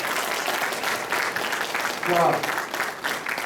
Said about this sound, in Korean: 자, 큰 박수 부탁합니다.